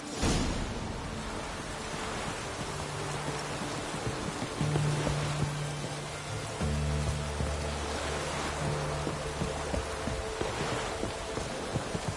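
Steady rain in Witcher 3: Wild Hunt hisses throughout, a dense even wash of falling water with a low droning hum underneath.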